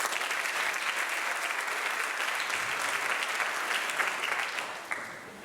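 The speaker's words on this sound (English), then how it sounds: "Please give our baseball team a round of applause." Audience applause for a high school baseball team at an athletic awards night, a dense, steady wash of clapping that stays fairly loud throughout and tapers slightly at the very end.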